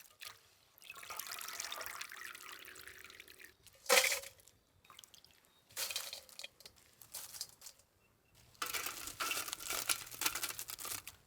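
Fresh curry leaves rinsed by hand in water with turmeric and salt, giving soft splashing and sloshing in uneven spells, one sharper clink of a vessel partway through, with no voices.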